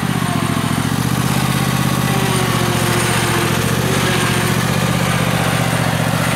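A riding lawn mower engine runs steadily up close, a continuous loud mechanical drone with a buzzy, motorcycle-like hum that holds an even pitch throughout, with no talk over it.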